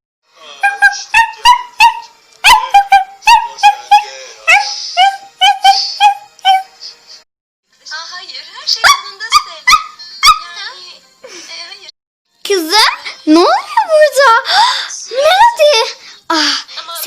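A small dog in a fairy-school film gives a string of high yips and whimpering cries, then a shorter burst of barks, fairly loud and close, mixed with voices speaking.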